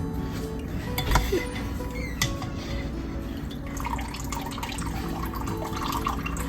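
Water drains and drips from cooked garden tomatoes being made into ketchup, a soft close trickle with scattered drips and faint clinks of a strainer or pot continuing steadily.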